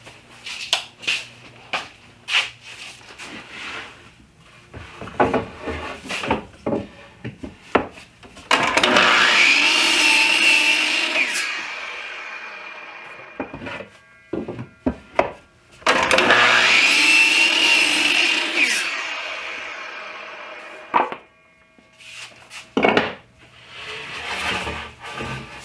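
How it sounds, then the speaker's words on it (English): Wooden boards for a DIY kitchen island table top being cut to length on a power saw, with two long, loud whining cuts separated and surrounded by clattering wood handling and short motor bursts, nearby and with no talking. "So I'm going to cut 7 pieces at 25 inches long"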